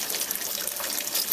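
Boiled and cooled water pours steadily over malt during sparging for a stronger, hoppier homemade pale ale, making a soft, continuous splash and trickle close by with no pauses.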